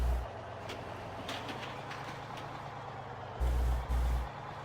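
A log truck in the farming game Farming Simulator 15 idles with a low, steady engine rumble, then gives two short, loud bursts of air-brake hiss close together near the end, with no talking.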